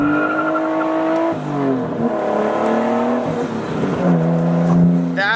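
A Nissan Skyline R33 with its muffler removed, leaving only the resonator on small factory piping, revs loudly up and down nearby, the engine note climbing and falling in repeated pulls with no talking.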